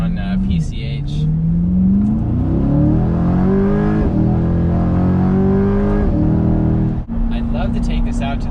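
A Chevrolet Corvette C8 convertible cruises along the Pacific Coast Highway, its engine note steady and loud, rising and shifting through gears in smooth sweeps with a brief drop near the end, while a driver talks over it.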